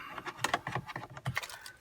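A set of keys for a 2011 Mercedes-Benz GLK350 jangles in a hand, a brief close-up series of bright metallic clinks and rattles lasting under two seconds, without speech.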